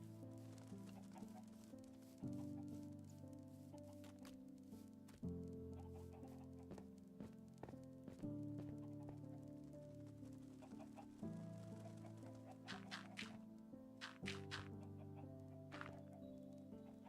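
Chickens clucking in the video game Minecraft, Bedrock edition, a steady run of short clucks under layered game music and ambience, fairly faint throughout.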